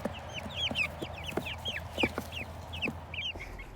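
Cornish cross meat chickens about two weeks old, each around 1.5 to 2 pounds, clucking and peeping in a busy overlapping chorus of short chirps, close by, against steady low background noise.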